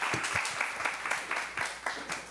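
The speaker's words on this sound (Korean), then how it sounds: "박수하겠습니다." A church youth-service congregation claps in a steady, evenly spaced rhythm, roughly two claps per second, close and moderately loud.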